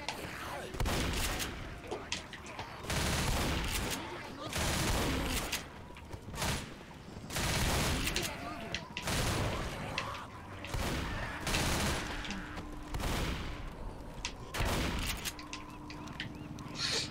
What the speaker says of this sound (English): I had to shoot a zombie.